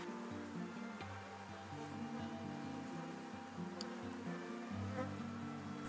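A honey bee colony inside a hive gives off a faint, steady, low buzzing drone that stays constant, with a few small ticks above it.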